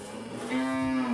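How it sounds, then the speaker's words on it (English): A cow of Jersey and Simmental mix on a carbon-neutral farm in Costa Rica lets out a single short, close moo that rises into a sustained tone. "So these cows, they're like a mix from a Jersey with a Simmental"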